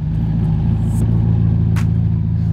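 A Ferrari Roma sports car drives with a steady, loud mid-pitched engine drone and road rumble, constant throughout with a slight rise in revs.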